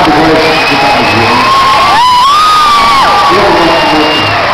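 Concert crowd at a São Paulo music hall cheers and applauds loudly, a dense continuous roar of shouts and whoops with sustained tonal cries, close and powerful throughout.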